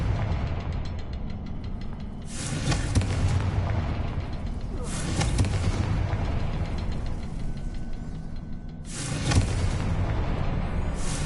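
Three loud magical spell blasts from the Confringo fire spell in Hogwarts Legacy on PS5, each a sharp burst with a crackling tail, spaced a few seconds apart over a constant low game ambience.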